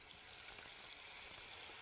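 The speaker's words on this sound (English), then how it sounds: "I'm going to get some water in this pan here for my pasta" Tap water running steadily into a pasta pan in a home kitchen, a continuous hissing splash at close range with no talking.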